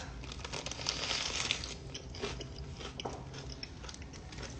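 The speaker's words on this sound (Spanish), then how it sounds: "Masticalo bien." Someone bites and chews crisp lettuce close to the microphone, a steady run of wet crunches and crinkly tearing sounds with no talking.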